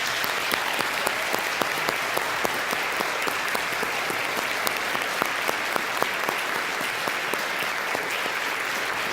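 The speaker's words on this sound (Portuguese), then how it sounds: "aplauda o Senhor bem forte." A church congregation claps loudly and steadily during an Easter musical service, a dense, sustained roar of hands filling the room without a break.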